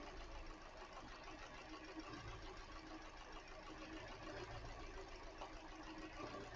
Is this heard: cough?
no